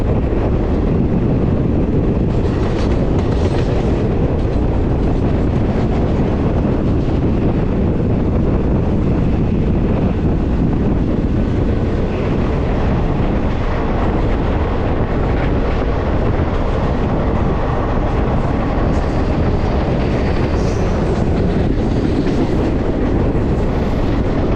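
Passenger train 17046 Anakapalle–Charlapalli running on rails, heard as a long, loud, steady roar mixed with heavy wind buffeting, close and unbroken throughout with no talking.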